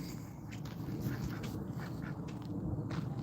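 A duck quacking in repeated short calls over a steady low background rumble, moderately close and continuing throughout.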